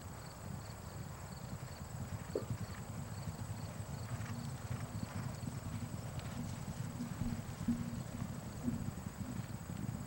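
Horses' hooves pounding turf during a 1997 steeplechase race, a steady dense rumble of galloping at a moderate distance, continuous and fairly loud with no talk over it.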